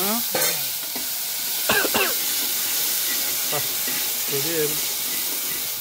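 Onion, garlic and crushed turkey berries sauté in a hot pan, giving a loud, steady sizzling hiss throughout, with brief faint voice fragments now and then.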